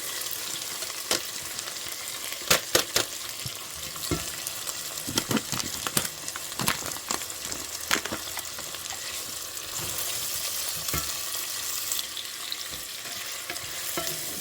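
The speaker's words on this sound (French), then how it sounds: "Pour ceux qui vont mettre des lardons, on va verser nos lardons." Bacon lardons sizzle and crackle steadily in a hot pan for lentils with sausages, with sharp scraping clicks of a utensil stirring them throughout; no one speaks.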